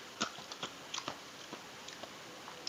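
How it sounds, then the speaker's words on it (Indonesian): Crunchy, salty, crispy fried tiny fish are chewed close to the mic, producing a series of sharp, irregular crackling bites and crunches with no talking. "Tapi kriuk nih ikannya nih."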